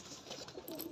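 Soft cooing from high-flying game pigeons kept at a big West Bengal pigeon farm, a quiet continuous murmur that grows a little louder toward the close.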